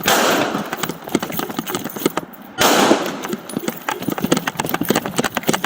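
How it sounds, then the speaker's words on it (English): Gunfire during a police shooting on a street in LAPD's Mission Area, sharp rapid shots in an irregular volley, loud and close, with a brief lull midway before the shots resume. "Officer needs help, shots fired. The suspect shoots at him."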